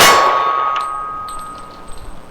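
A .45 ACP bullet from a ported Kimber Rampart 1911 strikes a steel gong target, producing one loud metallic clang that rings out with a long, decaying tone.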